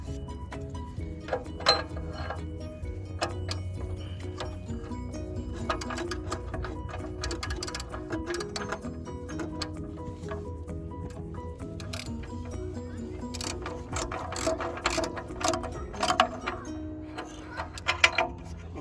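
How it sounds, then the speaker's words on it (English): A ratchet and socket turning a car oxygen sensor into its threaded port, giving a steady run of close mechanical clicking over a constant low background hum, with no voices. "Now I'm going to use the same socket and a ratchet to screw this in."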